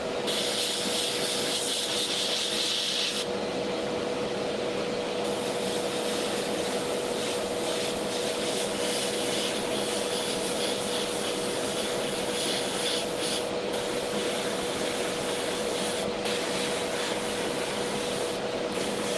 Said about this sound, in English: the airbrush is a great way to do this